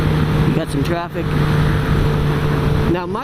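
Road traffic heard from a sport bike ride, where a 2016 Suzuki GSX-R 750 is out with another rider, a loud continuous engine and road roar with vehicles passing, and a rider talking over the noise.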